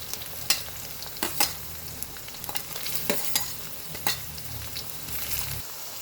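Vegetables for veg noodles stir-fried in a hot pan, with carrot going in: a steady sizzle runs throughout while a spatula scrapes and clacks against the pan in several sharp strokes, close and fairly loud, with no talking.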